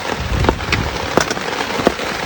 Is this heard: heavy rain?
yes